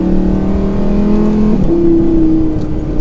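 Lamborghini Huracán supercar with a 5.2-litre V10 revving and accelerating from inside, a steady loud engine drone climbing in pitch, dipping at a gearshift, then pulling higher again.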